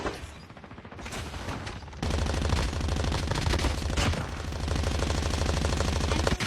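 Automatic gunfire in the Call of Duty Mobile shooter game rattles in loud, rapid bursts that run almost without pause, with a brief lull near the start before the shooting resumes at full intensity.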